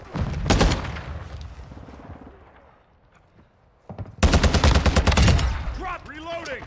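Gunfire in a video game shooter, with a loud volley of rapid shots, a quiet lull, then another heavy burst of automatic fire followed by ringing, whistling tails.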